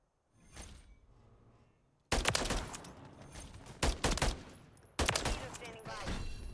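Holger 556 assault rifle in a video game firing several loud, close bursts, each a sharp crack with a ringing tail, separated by short pauses.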